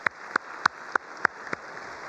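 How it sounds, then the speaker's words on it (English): Audience applause honoring Emily at a college State of the College event: six sharp, evenly spaced claps about a third of a second apart, moderately loud over a quiet background, no voices. "let's give Emily another round of applause"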